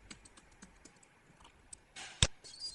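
Soft keystrokes tap out a password on a computer keyboard in a quiet room, a few irregular clicks ending with one sharper key press, close but faint and without speech.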